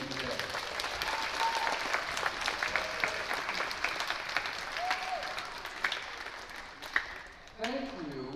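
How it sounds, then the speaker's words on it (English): Children in a school audience at a Veteran's Day presentation clap together in a long, dense round of applause that stays steady for several seconds before thinning out, with a few voices and faint talk rising near the end. "Boys and girls, give yourselves a round of applause."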